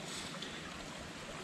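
Hot cider poured onto a campfire in the Hoosier National Forest to douse it, giving a steady, loud, broad hiss of sizzling steam that fills the whole moment without pause.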